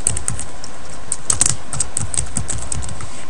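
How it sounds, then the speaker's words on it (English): Fast, continuous clicking of keys on a computer keyboard, close and fairly loud, steady throughout with no talking. "click the first row and type billing profile"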